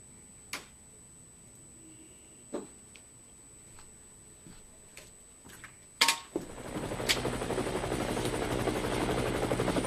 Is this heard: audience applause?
no